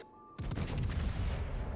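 In the World of Warships-style naval game featuring HMS Repulse, a sudden loud boom of ship gunfire erupts, followed by a rumbling volley of blasts and echoes.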